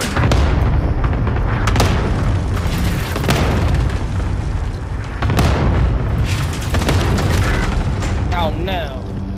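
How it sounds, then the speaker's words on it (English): Cluster artillery strike in a video game: a dense barrage of heavy, rumbling booms and blasts rolls on continuously and loudly, with voices talking over the explosions. "Enemy cluster strike incoming"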